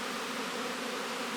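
Honeybees buzz near their hives in early spring, a steady, dense hum that holds at an even level throughout, with no voices.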